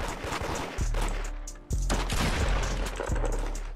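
Gunshots in the Roblox game Da Hood crack out in a loud, repeated volley, several close blasts with booming low-end thumps following one another in quick succession.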